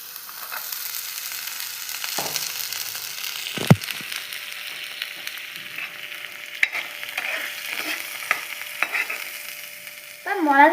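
Mashed potatoes and peas sauté in a hot pan with a constant sizzle and intermittent scraping stir strokes, close up, before a brief voice at the end.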